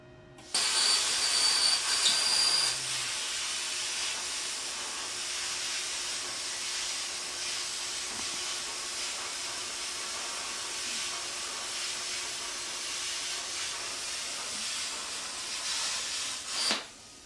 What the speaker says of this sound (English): So we're going to try it at 25 amps and see if it cuts